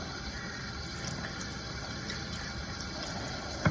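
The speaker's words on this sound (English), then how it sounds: "So give it a quick rinse, rub down all those nooks and crannies you would have had the salt in." Cured salmon rinsed under a running tap, a steady, moderately loud stream of water splashing close by, ending with a brief knock.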